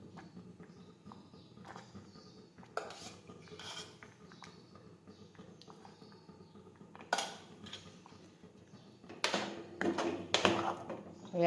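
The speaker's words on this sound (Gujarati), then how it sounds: "હવે આ રીતે ચમચો છે તે પાછો ફેરવી લેશું" A ladle stirs and scrapes through wheat khichdo in a metal pot, right after ghee is added. Soft clinks and scraping strokes recur irregularly, growing louder and busier toward the end over a low kitchen background.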